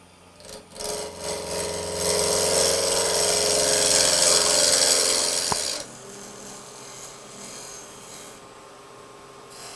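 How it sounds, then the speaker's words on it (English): Wood-turning tool cutting across torn grain on an Amboyna burl lidded box blank spinning on a lathe, a loud rasping hiss for several seconds that cuts off abruptly, leaving the lathe's quieter hum. "So I'm cutting across that torn grain this way now"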